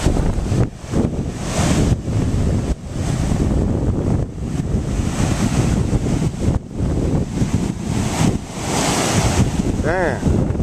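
Ocean waves roll onto North Wildwood beach under a strong sea breeze, a steady loud wash of surf with heavy wind buffeting close to the microphone.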